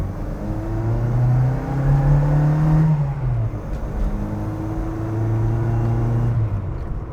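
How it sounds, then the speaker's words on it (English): A Mini 1275 GT's engine pulls hard while driving, a droning, rising intake note climbing through the revs, easing off, then building again from inside the car. "That intake noise, that snort is brilliant."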